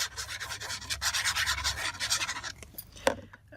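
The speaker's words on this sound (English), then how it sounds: "Awesome scratching sound." Close, continuous scratchy rubbing as fingers press glued paper edges down on a Christmas junk journal, with rhythmic strokes that fade out and end in a single sharp tap.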